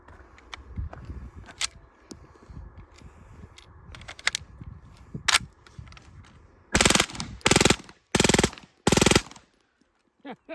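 A suppressed MP5K submachine gun with a large suppressor fires four short, loud automatic bursts outdoors, each a rapid rattle, after several seconds of quieter clicks and handling.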